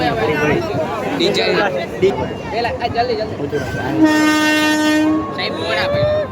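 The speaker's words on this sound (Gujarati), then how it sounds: "અને હવે ટ્રેન આવી ગઈ." A passenger train pulls into a railway station near Somnath, its rumble steady beneath people talking, then one long, loud horn blast sounds for about a second before the noise continues.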